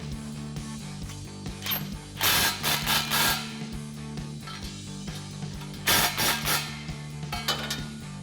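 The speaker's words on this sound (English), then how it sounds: "I'm going to take a 13mm swivel socket on an extension, and I'm going to go back and forth, tighten down this flange evenly." A 13mm swivel socket on an extension ratchets back and forth, tightening an exhaust flange on an EcoBoost F-150. Bursts of quick metallic clicking repeat over a steady low hum, close and fairly loud.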